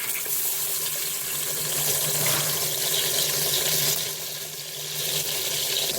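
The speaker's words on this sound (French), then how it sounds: "je fais dorer mes morceaux de viande un par un" Veal pieces brown one by one in hot fat inside a Cookeo multicooker, giving a constant, dense sizzle and crackle that stays close and loud throughout without pauses.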